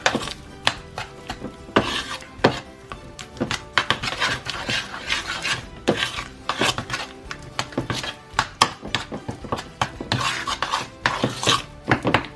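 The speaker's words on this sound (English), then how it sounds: "So we're just going to get this all mixed in here." Cajun seasoning being mixed into butter in a bowl for a Cajun butter and herb turkey, with steady scraping and rubbing of a utensil against the bowl, frequent sharp clinks and knocks, close and fairly loud, no talking.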